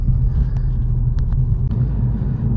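A Mini JCW is driven through town at night, a steady low engine rumble and road noise filling the cabin, with a few faint clicks and no talking.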